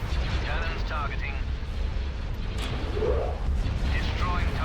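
Starship cannons firing in the video game Star Wars Empire at War, heavy booming blasts under continuous battle rumble, with voices speaking over the action.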